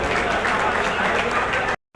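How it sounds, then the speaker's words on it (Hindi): Audience at a chamber of commerce convention claps in a dense, steady burst of applause, loud and close, ending abruptly into silence. "एक बार जोरदार तालियों से सबका स्वागत करें"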